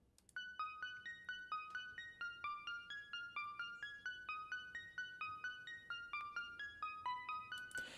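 A bright, bell-like synth plays a fast, steady arpeggio of repeating plucked notes, clear and up close, running continuously.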